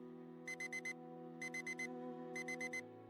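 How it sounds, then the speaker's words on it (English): An alarm clock rings in three bursts of four quick electronic beeps, evenly spaced, over a steady low hum. "Every morning, as the alarm clock goes off"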